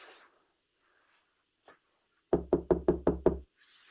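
Police knocking on an apartment door: six firm, evenly spaced raps in quick succession, close and loud against an otherwise quiet hallway, with faint voices before and after.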